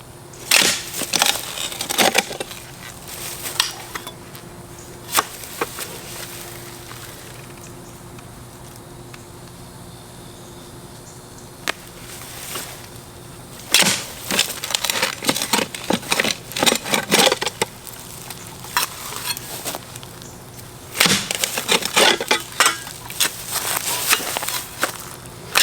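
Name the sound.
pieces of old glass being handled and dug through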